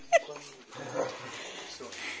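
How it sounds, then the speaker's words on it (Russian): Dogs whimpering and yipping indoors, a sharp high yip at the start followed by soft whines and low whimpers, fairly close and faint. "гонять этих собак"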